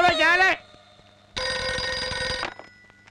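Telephone ringing in a Telugu comedy film scene: a brief burst of ringtone, a pause, then a longer steady ring of about a second, loud and near with nothing else over it.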